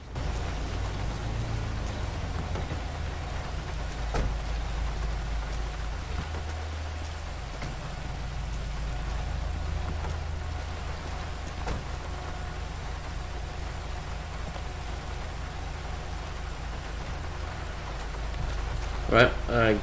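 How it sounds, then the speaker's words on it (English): Steady rain in the GTA 5 video game falls as a constant hiss throughout, under low vehicle-like rumble and occasional voices. "seems like every time I come here, there's always rain"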